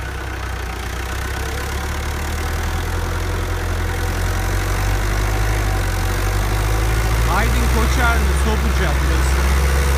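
A 1988 tractor's diesel engine, never rebuilt, idles with a steady low chugging throb, close and constant, with a faint squeak or voice-like sound partway through.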